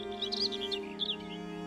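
A European robin in the UK sings a bright run of high, quick chirps and trills, fairly near and clear over a quiet background, with a short pause before a second burst.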